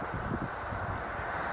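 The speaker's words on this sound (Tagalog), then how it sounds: "Malakas ang hangin." Strong wind blows outdoors in a new housing subdivision, making a continuous low roar and buffeting against the microphone for the whole brief stretch.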